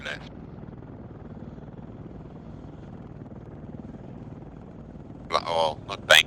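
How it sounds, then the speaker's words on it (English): Steady low rotor drone of an aircraft in Arma 3, a helicopter-like thrum holding constant throughout, broken near the end by short bursts of radio-style voice chatter. "Aircraft keeps on banking left."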